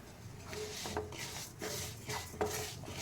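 Coarse wheat dalia being dry-roasted in a pan over medium heat, with a steady scraping and rubbing of a spatula against the pan and a few louder clinks and scrapes, close by and continuous.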